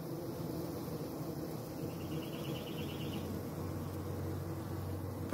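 Honeybees fan their wings to cool the hive and crowd its entrance, making a faint, steady, low buzzing hum that continues throughout.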